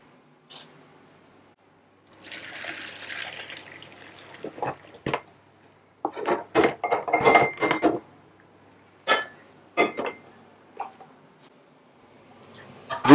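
Cooked penne pasta drained from a pot for a carbonara, with a gush of pouring water followed by scattered metallic clanks and knocks of the pot and utensils, close and intermittent with quiet pauses between.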